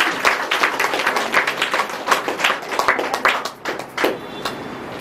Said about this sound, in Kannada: ಇನ್ನೊಂದು ಜೋರಾಗಿ ಚಪ್ಪಾಳೆ ಹೊಡಿಬೋದ?